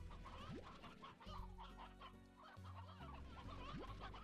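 Several roosters cluck continuously in the video game Slime Rancher, a busy overlapping chorus of short clucks and squawks close by, with no talking.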